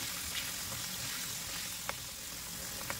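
Pork fries in a pan with a continuous close sizzle while it is stirred, with a couple of brief scraping clicks from the utensil and no talking.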